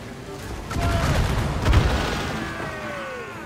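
Ship cannon fire in Assassin's Creed Rogue, a burst of booming shots over a low rumble, peaking mid-clip before fading into continued battle noise.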